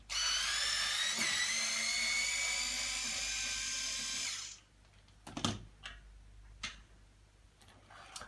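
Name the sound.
power drill unscrewing screws from plastic pram hinge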